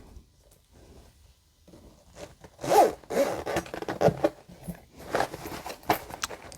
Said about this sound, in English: We're just going to zip this up.